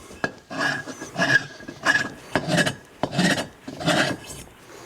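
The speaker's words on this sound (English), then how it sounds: "All we've got to do now with that, just lap that valve in." A valve from a Triumph Trident T160 motorcycle engine is lapped into its seat, a rhythmic gritty rasping in repeated back-and-forth strokes, about eight passes, close and clear with no talk.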